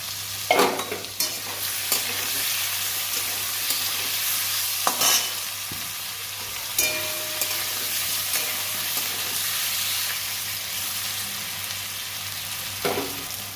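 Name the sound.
vegetables frying in a pan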